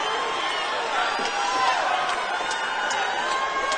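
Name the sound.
boxing crowd cheering for Roy Jones Jr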